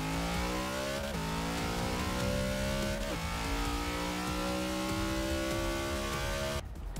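A car engine in the Forza 6 racing game revs hard and steadily, holding loud rising tones, each interrupted by a sharp gear-shift drop before climbing again, with no talking over it.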